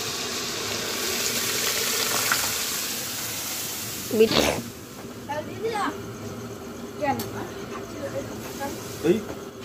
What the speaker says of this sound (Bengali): তারপরে দিয়ে দিলাম আমরা ডাল সিদ্ধটা।